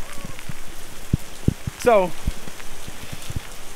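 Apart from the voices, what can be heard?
heavy rain falling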